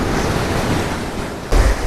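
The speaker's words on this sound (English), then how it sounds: "but it's too windy" Strong wind buffets the microphone at an Indian beach while waves wash in underneath, a constant roaring hiss with a heavy low thump near the end, loud and close.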